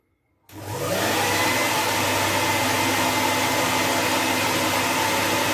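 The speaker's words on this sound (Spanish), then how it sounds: "Voy a prender el secador de pelo." A hair dryer switches on and blows continuously, a loud steady whooshing roar with motor whine that holds unchanged after a sharp start from silence.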